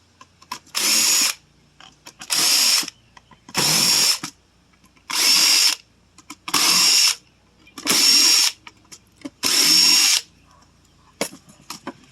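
A power tool whirs in seven short bursts of about a second each, separated by brief pauses, as it is used to take apart a Mac all-in-one PC for scrap, loud and close.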